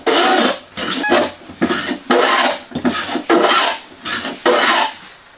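Hand plane taking heavy wood shavings at a woodworking bench, a series of about eight rough rasping strokes in a steady rhythm, close and loud with brief pauses between passes.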